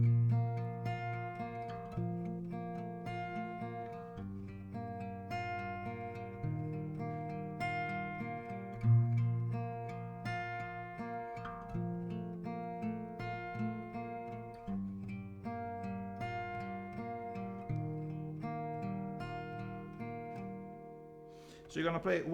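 Slow acoustic guitar chords from a song, strummed steadily with a bass note under each chord and ringing sustain, played alone at moderate volume.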